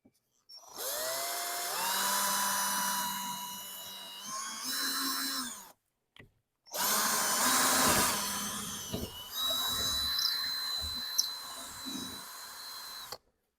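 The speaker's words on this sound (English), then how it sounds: "I'm going to drill a little pilot hole" A power drill bores a small pilot hole into wood during a boat seat mounting job, whirring in two bursts split by a brief pause, the motor pitch rising and sagging under load, close and fairly loud.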